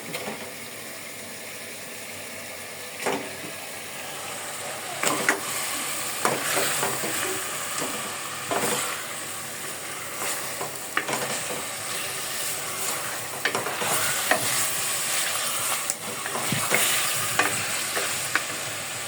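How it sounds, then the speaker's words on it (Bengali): Rohu fish head sizzling and frying in spiced masala in a hot pan, a steady loud hiss broken by repeated stirring scrapes and spatters, with no talking. "আমি এখন ধুয়ে রাখা রুই মাছের মাথাটা দিয়ে দিই"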